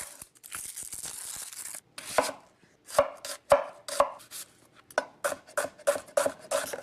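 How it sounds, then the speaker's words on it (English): An onion being chopped on a board for a sauce, a near series of crisp knife strikes in an uneven rhythm, a quiet scrape first, then about a dozen distinct chops, no talking. "I'm gonna chop my ingredients"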